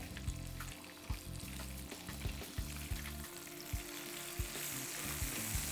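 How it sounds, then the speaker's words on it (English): Strips of bacon fry in a hot pan for an over-easy bacon-and-eggs breakfast, a steady close sizzle with soft periodic thumps and scrapes as the pieces are turned. "So we're going to do the first turn of the bacon."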